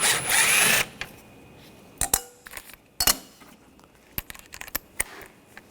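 A power tool with a 7mm socket runs in a loud burst, then gives several short clinks and taps as screws come out of the radiator panel on a 2013-2022 Buick Encore 1.4L.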